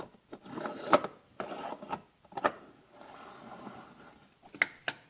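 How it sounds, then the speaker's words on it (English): Metal moka pot Italian stovetop espresso maker having its collection chamber screwed onto the base, a few quiet scraping, rasping twists and small clicks close by. "Screw the collection chamber in place"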